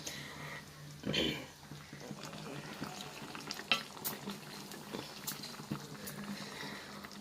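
Egg kuzhambu, a curry with eggs cracked into it, simmers and lightly sizzles in a pot. Occasional stirring clatters and soft bubbling sound over a quiet background.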